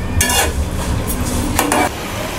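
Hibiscus flowers and leaves, nigella seeds and fenugreek get stirred in oil heating for homemade hair oil, with a soft ongoing sizzle broken by a few scraping spoon strokes against the pan, close by.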